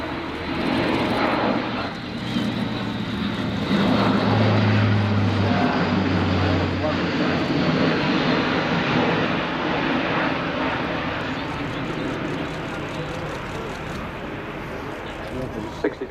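Airbus A400M Atlas four-engine turboprop military transport in a Royal Air Force flying display at an airshow, a loud steady propeller and engine roar throughout with a low droning hum, under a commentator's talk.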